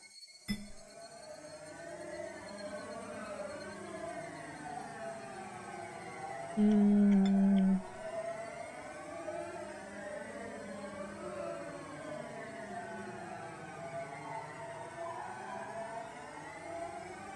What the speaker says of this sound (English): These are the sirens that the cops are coming for you